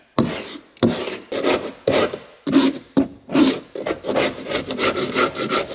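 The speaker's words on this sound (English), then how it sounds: "There's gonna be a lot of scraping today." Rough rasping strokes scrape the wooden surface of a boat, repeated in a steady rhythm of about a dozen close, loud passes with brief gaps, no voices.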